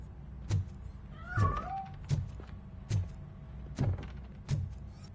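A cat meows in the video game Robocop Rogue City, one distinct meow heard up close amid a series of regular soft thuds and knocks, quiet and without speech.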